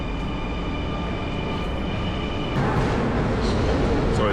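Steady rumbling hum of trains and station machinery fills a huge Amsterdam railway station, a continuous broad roar with a faint high whine that swells slightly louder partway through.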